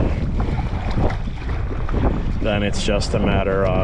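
A strong headwind buffets a sea kayak paddling through waves near Sundsvall, with loud, steady wind roar and sloshing water close by while someone talks over it.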